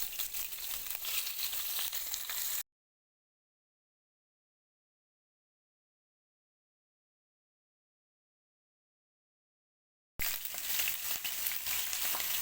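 Beef liver cubes fry in a hot pan with a steady hissing sizzle, close and even, broken by a long stretch of dead silence before the sizzle returns.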